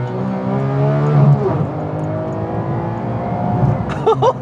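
Porsche 911 GT3 Touring engine blipping the throttle on downshifts, rising and falling revs heard from inside the car with a sharp rev flare near the end.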